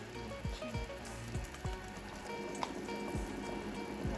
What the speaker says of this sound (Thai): น้ำเดือดแล้วนะคะ